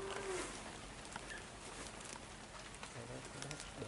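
Outdoors in a heavy rainstorm, a bird gives a short low call near the start and soft coo-like notes later, set against a constant hiss of falling rain with faint voices in the background.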